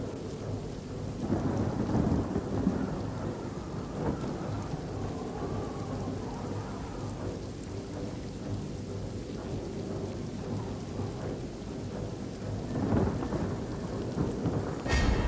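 Heavy rain and rolling thunder from a storm in the fantasy role-playing game Divinity: Original Sin Enhanced Edition, a dense steady downpour with deep rumbles swelling near the start and again toward the end.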